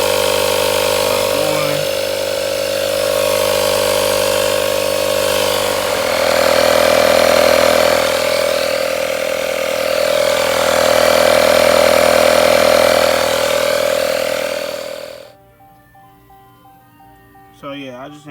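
A Dodge tire repair kit compressor inflates a flat tire on a Dodge Challenger or Charger, a loud steady motor hum and buzz that runs for about fifteen seconds and then cuts off abruptly.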